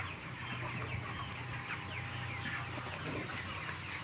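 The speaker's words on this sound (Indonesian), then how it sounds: "Dan nampak seperti inilah suasananya untuk ayam broiler di usia yang ke-33" A flock of 33-day-old broiler chickens in a fully automatic closed-house coop fills the space with dense, continuous soft clucking, blended with the steady roar of ventilation fans running throughout.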